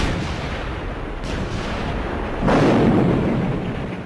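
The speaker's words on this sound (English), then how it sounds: "The morning erupted into a firestorm of shells and rockets." Artillery shelling with shells and rockets at Iwo Jima rumbles as a continuous, heavy roar of distant blasts, swelling louder partway through into a thicker, sustained barrage.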